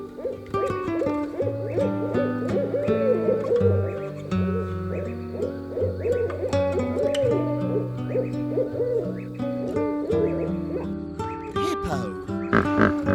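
An owl gives repeated hooting calls, fairly loud and close, over a steady musical backing.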